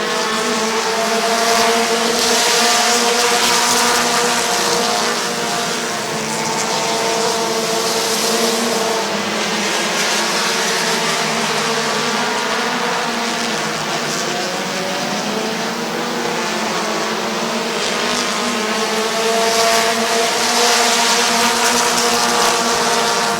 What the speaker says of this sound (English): He's going to go 3 wide around Bucky on the outside